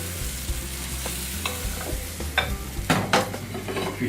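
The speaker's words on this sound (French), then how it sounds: "Vous versez une petite louche d'appareil à crêpes dans la poêle." Crêpe batter cooking in a lightly oiled frying pan, with a soft steady sizzle and intermittent scraping and clinking of utensils close by.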